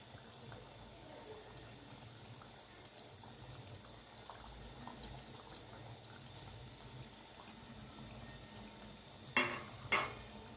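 Fried eggplant tipped into masala sizzling in hot oil for Hyderabadi baingan masala, a steady close crackle throughout, ending with two sharp metallic clanks of a utensil against the pan.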